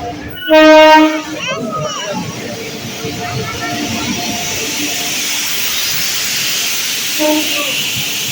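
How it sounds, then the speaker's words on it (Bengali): The Ganadevata Express pulls into a station with one loud horn blast, followed by a long rolling hiss and rumble of the train and a second brief horn toot near the end. "এই মুহূর্তে প্রবেশ করছে গণদেবতা এক্সপ্রেস"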